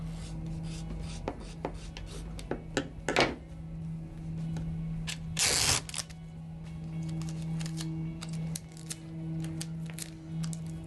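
The ends of a braid-on-braid rope splice are tapered with quiet, scattered snips, rubs and clicks over a low steady hum. One louder burst of rasping comes partway through.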